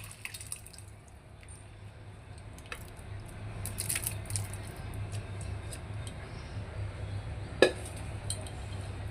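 Boiled dal is stirred in a cooking pot, giving quiet wet squishing and slopping with occasional light clinks of the spoon against the pot and one sharper knock near the end.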